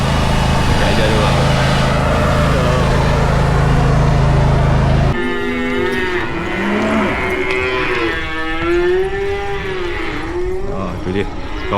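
Cattle moo loudly and close by on a rural hillside in South Korea, with long drawn-out, wavering calls over constant wind or road noise.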